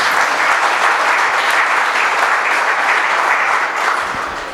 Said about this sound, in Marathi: तर या निमित्ताने आपण आपल्याकरताच एकदा टाळ्या वाजूया का?